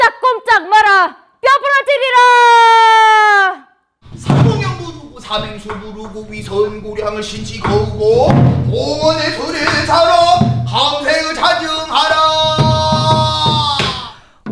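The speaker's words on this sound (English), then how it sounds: "What you're hearing now is a genre of art performance called a Pansori Storytelling." Korean pansori narrative singing, a solo voice performing the story of Chunhyang from Namwon, with dramatic chanted and sung phrases, loud and close, broken by a brief pause before the sung narration resumes with strong vocal harmonics.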